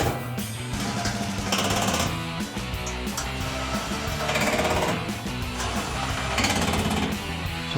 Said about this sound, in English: And tighten up the 4 10mm bolts.